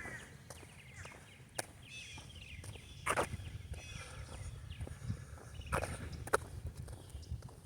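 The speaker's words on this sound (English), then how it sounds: "Woodpecker." A woodpecker taps on a tree by a lake: a few sharp, isolated knocks spaced irregularly over soft outdoor background noise, with faint footsteps or rustling nearby.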